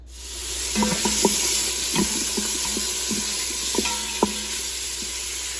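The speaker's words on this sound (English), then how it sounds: "We're gonna saute this bacon, onions, and garlic." Bacon sautéing in a pan with onions and garlic gives a steady, close sizzle, with a few clicks and knocks of stirring scattered through it and no voices.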